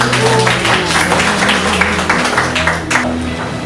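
Warm applause from a gathered audience at a Korean church group leaders' meeting as a priest is introduced, sustained dense clapping from many people, loud and continuous, with a low hum and a few voices beneath.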